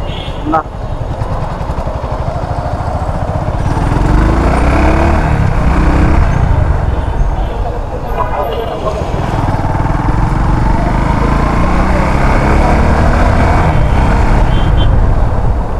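A Runner Bolt 165R motorcycle engine pulls hard in traffic, a loud sustained rumbling drone that rises in pitch as it accelerates, close to the rider with someone talking over it.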